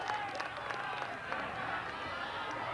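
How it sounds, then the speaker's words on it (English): Football crowd down near the Sandringham goals at a 1984 VFA match between Sandringham and Preston grows vocal, a distant murmur of cheering and scattered shouts rising and falling, with a commentator talking over it. "The crowd down near the Sandringham goals becoming a little vocal as it comes back in."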